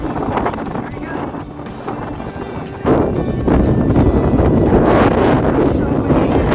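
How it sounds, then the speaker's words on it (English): Strong April wind buffets the microphone outdoors in Michigan, a rough, roaring gust noise that swells louder partway through and keeps blowing steadily. "It's so windy."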